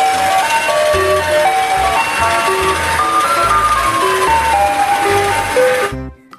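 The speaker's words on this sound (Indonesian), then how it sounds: "Yang ini ada mobil es krim." A toy ice cream truck plays its tinkling electronic jingle loudly and alone, a bouncy repeating melody over a low pulsing beat that cuts off abruptly near the end.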